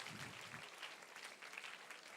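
Audience applause at a student induction programme, a steady wash of many hands clapping from across a hall, faint and continuous with no talk over it.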